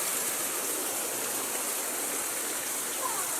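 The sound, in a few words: rainwater flowing into house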